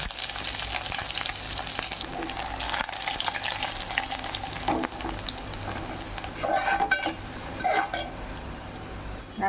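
Cumin, dried red chillies and thinly sliced garlic sizzle loudly in hot oil for a Telugu tomato dal tempering, with a steady broadband fry and occasional stirring scrapes and clinks near the end.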